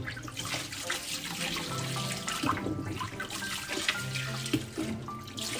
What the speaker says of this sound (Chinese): 用清水冲洗干净，防止枝条在扦插的过程中滋生霉菌和虫害。